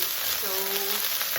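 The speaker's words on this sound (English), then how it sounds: "let's fry the pork first." Pork fries in a pan for jjajangmyeon, giving a steady, loud, close sizzle that runs the whole time, with a brief higher squeak of utensil or pan movement partway through.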